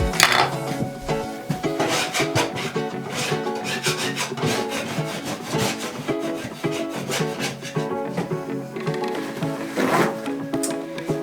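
A metal scraper works across a painted room wall in steady, rhythmic rasping strokes, loud and close, with a tonal hum behind it.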